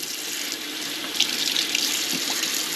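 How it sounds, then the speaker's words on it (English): A kitchen tap runs steadily close by as hands are washed under it, with soft splashing and a few brief spatters as the water hits the hands and sink. "wash my hands here again"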